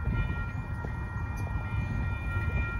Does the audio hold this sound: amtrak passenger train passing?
yes